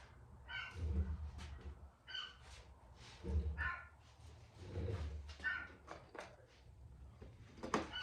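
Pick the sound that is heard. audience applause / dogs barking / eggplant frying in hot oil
dogs barking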